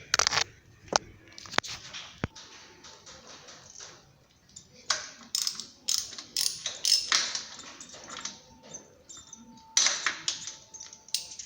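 A ratchet wrench working a 14 mm bolt on the starter motor of a 2000 Honda Civic, with irregular quick ticking clicks and metallic scrapes in bursts, separated by short quiet gaps.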